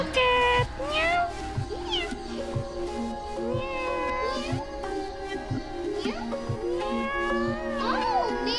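A cat meows repeatedly, close and insistent, with overlapping wavering cries and people talking in the background.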